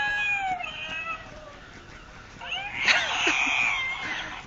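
A battery-powered cat toy sold at a home-improvement store lets out synthetic meows and yowls, one drawn-out cry at the start and a louder, shrill caterwaul about three seconds in, heard close up.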